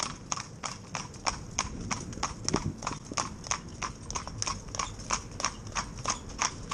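Hooves of two horses pulling in tandem, Jimmy and Choo, clip-clopping in a steady, even rhythm on a hard surface, close and clear, with faint background noise and a brief low thump midway.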